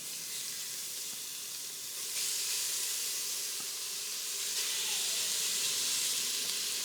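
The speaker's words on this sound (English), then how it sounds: "we can begin to sear our meat" Meat sears in hot oil on the sauté setting of an electric pressure cooker for pozole rojo, a continuous loud hiss and sizzle that swells partway through, with no voices.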